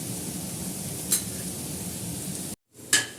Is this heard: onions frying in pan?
yes